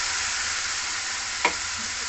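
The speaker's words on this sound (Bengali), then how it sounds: "সেই মশলাটা দিয়ে ভালো করে আমি নেড়ে চেড়ে তেল ছাড়া অবধি এটা ভালো কষে নেবো।" Ground mustard, poppy seed, cashew and chili paste fries in hot oil with tomato for a vegetarian okra masala, giving a steady close sizzle with one brief scraping stir near the end.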